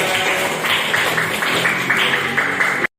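Classroom of students applauding together, a dense steady wash of clapping held for about three seconds at moderate level before cutting off abruptly.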